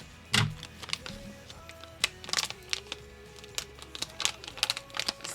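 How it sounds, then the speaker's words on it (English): A package is cut open with sharp clicks, snips and crinkling plastic, a series of irregular close taps and tears. "I'm just gonna cut the package right here"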